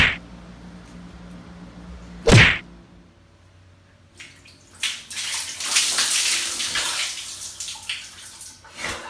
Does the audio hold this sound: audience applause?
no